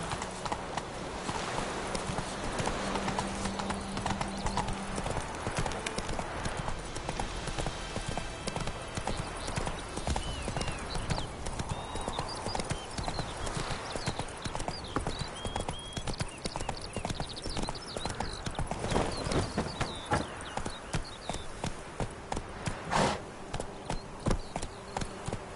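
Horse hooves clip-clop steadily at a gallop in The Witcher: Wild Hunt, a continuous rhythmic pounding over game ambience, with an occasional brief whinny.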